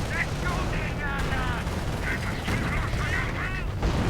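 Gunfire and high-explosive rounds from a WWII strategy video game crackle and thump in dense overlapping bursts, loud and continuous, while a commentator talks over the battle.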